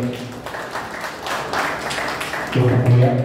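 An audience applauds at a book-lovers' group's annual gathering in Satara, giving scattered, moderate clapping that fades as a voice begins speaking near the end.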